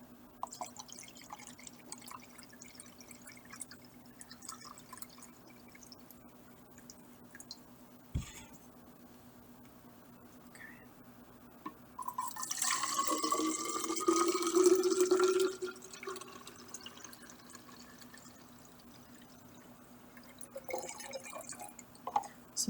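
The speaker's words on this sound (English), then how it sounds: "I'm going to fill up my measuring cup again." Water pours into a measuring cup in a burst of splashing and filling for a few seconds, then trickles off, with quiet stretches and a faint steady hum around it.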